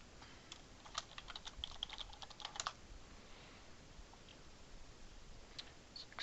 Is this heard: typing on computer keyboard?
yes